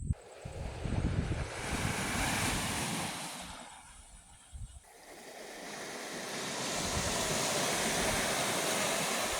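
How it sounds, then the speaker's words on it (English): Surf breaks on a reef off Chatham Island, a loud continuous roar of crashing waves that briefly eases, then swells again under gusty wind noise. "Look at the surf on that reef."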